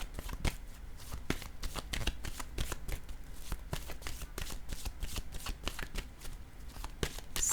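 A deck of oracle cards being shuffled by hand, a rapid, continuous riffle of crisp card slaps repeating steadily, close and clear with no talk.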